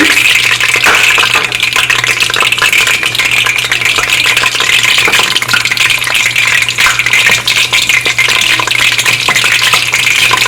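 Onions frying in palm oil for peanut soup, a steady loud broadband sizzle with crackling spits running continuously throughout, with no voices.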